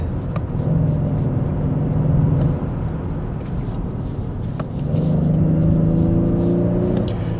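A Genesis G80 3.5 turbo AWD engine drones steadily on a winding road, eases off in the middle, then surges again with rising, layered engine tones as the throttle is pressed once more.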